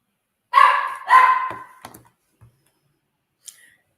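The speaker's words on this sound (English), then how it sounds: "That's the dog." A dog named Rock-a-Doolittle gives two sharp, close barks followed by a few faint, short yips, then quiet.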